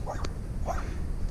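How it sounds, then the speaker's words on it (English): A junkyard dog guarding scrap in a residential neighborhood gives a few short, sharp barks and yips, moderately close, over a steady low background hum. "Guard the scrap junkyard dog."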